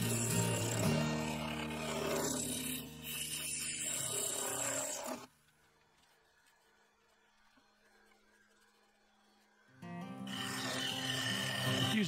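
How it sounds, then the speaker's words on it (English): A carbide lathe tool cuts epoxy resin on a large segmented wooden bowl, giving a loud rough scraping whir that drops to a quiet hum midway and then resumes. "Using the carbide, I gradually thinned down the resin."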